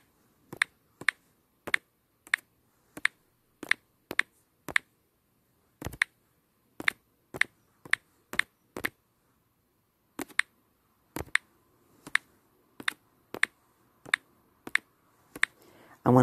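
Fingers tapping on a phone touchscreen to type a message, producing a steady series of crisp, close, dry clicks in quick bursts with small pauses, no talking over them.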